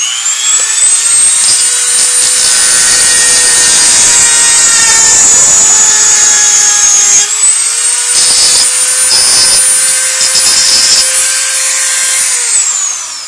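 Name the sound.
Dremel rotary tool with carbide cutter bit cutting off plastic tabs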